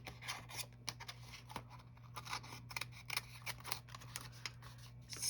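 Scissors trim packaging paper for a refillable notepad, giving a rapid series of close, crisp snipping cuts with brief pauses between strokes.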